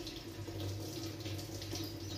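Tap water runs steadily into a sink while grain is rinsed before soaking, a soft continuous splashing stream with no voices.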